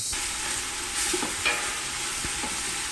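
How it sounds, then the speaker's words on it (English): Salted cioppino base being stirred in a pot with kosher salt, giving a soft continuous scraping and sizzling hiss with a few brief louder strokes, close and steady, no talking. "Mix that up really good."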